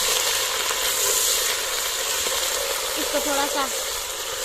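Fresh green ginger-garlic paste sizzles in a hot pan for a mixed vegetable dish, a steady close frying hiss with brief speech over it.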